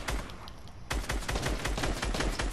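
Rapid gunfire in a video game, a dense run of sharp close shots in a fast burst rhythm after a short lull, loud and continuous.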